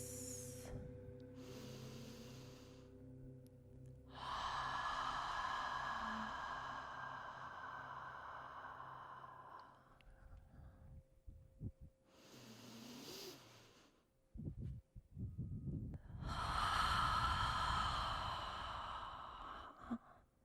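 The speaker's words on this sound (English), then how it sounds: "Take in 2 more deep breaths." Slow deep breaths during a guided breathing and stretching session, long drawn inhales and exhales close to the microphone with quiet pauses between them.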